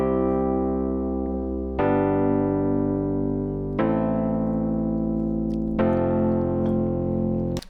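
Four sustained chords in a I-V-vi-IV progression played one after another, each struck and left to ring for about two seconds, clear and close with no voices.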